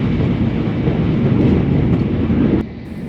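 A Japanese bullet train running from Tokyo to Hiroshima fills the cabin with a loud, steady low rumble and rushing roar, easing slightly near the end.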